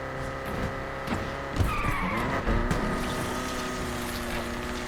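A Volkswagen Beetle racing in the video game Need for Speed Unbound: a steady droning engine note that shifts pitch, with a tire skid squeal midway and a few light knocks, all without talk.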